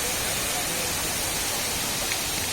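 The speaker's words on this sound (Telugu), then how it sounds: "Water fountain." Steady broadband rush of a water fountain splashing continuously, loud and even throughout with no break, no voices standing out.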